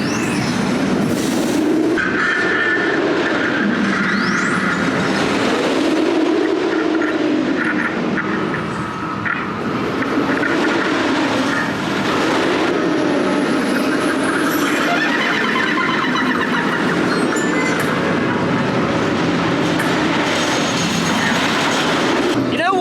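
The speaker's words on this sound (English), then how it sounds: "That ride on the Smiler just then was absolutely fantastic." Loud, continuous roar of the Smiler roller coaster at Alton Towers ridden from the front row, with rushing wind and rattling track noise over the whole run and brief voices mixed in.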